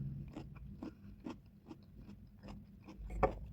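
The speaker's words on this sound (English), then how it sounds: "before I go ahead and dive into this cucumber with the skin" Biting into and chewing a thick-skinned cucumber, with a steady series of close, crisp crunches and one louder crunch near the end, no talking.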